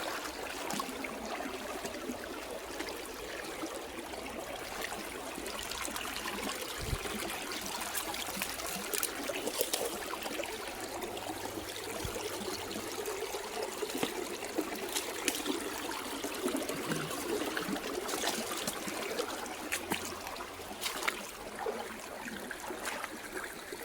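A forest creek at Pine Creek in Prattville, Alabama flows steadily over rocks with a continuous close trickling, babbling wash that holds even for the whole stretch.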